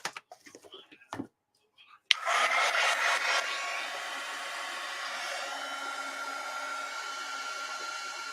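A dryer used on mixed media artwork switches on abruptly after a few soft handling noises and runs as a steady, close, fairly loud whoosh, briefly surging at first before settling into a constant hum.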